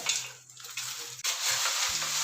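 Masala being stirred through corn poha chivada in a pan, a steady scraping rustle with soft dry sizzling texture, close and continuous with brief pauses.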